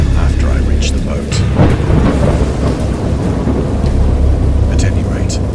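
A thunderstorm rolls in with deep, loud thunder rumbling beneath steady heavy rain, while a voice speaks over the storm.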